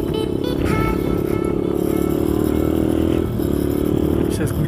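Motorcycle engine revving close by, a raspy, steady drone with slight pitch shifts and a brief dip around the third second, under a speaking voice.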